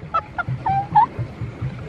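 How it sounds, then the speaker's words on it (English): A few short honks from geese chasing a swan boat on a park boating lake, nasal and fairly close, scattered over about two seconds with low background rumble. "We're getting chased by geese."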